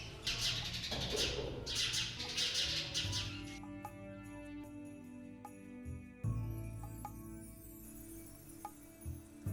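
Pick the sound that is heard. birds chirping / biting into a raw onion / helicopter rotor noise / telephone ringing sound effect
birds chirping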